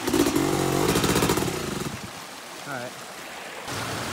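An enduro motorcycle picks its way along a rocky creek bed, its engine loud and buzzing at first, then easing off over splashing water and clattering stones.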